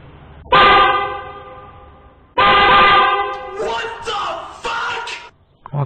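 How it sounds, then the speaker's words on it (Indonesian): Two loud, blaring horn blasts from a newly fitted aftermarket horn with relay on a Yamaha New Vixion motorcycle sound up close, each held about a second or more, followed by some rattling and handling noise. "kita tes lagi suara klaksonnya"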